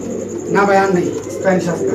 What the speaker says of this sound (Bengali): আজকে দেখাবো দর্শক আপনাদের স্প্যানিশ কবুতর